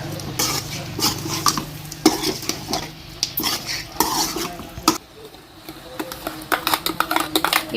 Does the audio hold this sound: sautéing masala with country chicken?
yes